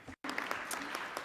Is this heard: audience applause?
yes